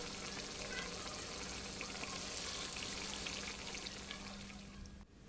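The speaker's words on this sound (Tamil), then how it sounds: "ஸோ மீடியம் ஃப்ளேமில் வச்சு ஃப்ரை பண்ணிக்கிங்க" Tapioca vadas fry in hot oil over a medium flame, giving a steady, dense sizzle and bubbling close by. The sound holds even and continuous, then drops off abruptly near the end.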